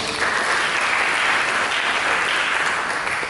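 Applause for Jesus during a church service, a full congregation clapping continuously and evenly at fairly loud volume for several seconds, with no speech over it.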